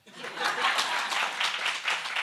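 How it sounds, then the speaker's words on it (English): Audience hand clapping at an alumni networking evening event, a short burst of dense clapping that rises quickly and holds steady, with faint laughter mixed in. "she deserves a better hand clap"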